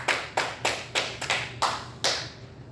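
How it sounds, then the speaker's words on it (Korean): A small congregation claps together at the end of a Wednesday church service, with about seven distinct, evenly spaced claps in a steady rhythm, sounding close and moderately loud. "우리 하나님께 영광 박수 올려드리도록"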